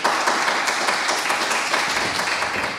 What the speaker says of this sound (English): you can hear the sound of three hands clapping or something in the room